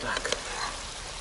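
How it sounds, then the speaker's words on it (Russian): Tomatoes with canned stewed meat and salted lard simmer in a pan over a campfire breakfast, a steady soft sizzle and bubbling hiss, close, with faint clicks near the start. "И все это вот так тушится. Теперь с помидорками."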